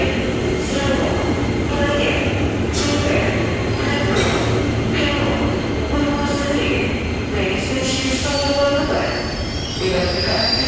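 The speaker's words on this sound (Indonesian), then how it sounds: "KRL dari Solo Balapan baru saja tiba di Yogyakarta dan akan diberangkatkan kembali ke Solo Balapan" KRL electric commuter train arriving at Yogyakarta station from Solo Balapan, a loud close rumble with repeated high wheel squeals and clattering as the cars roll along the platform.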